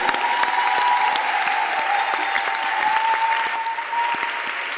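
A church congregation applauds steadily for several seconds, close and loud massed hand clapping with a sustained tone ringing faintly underneath.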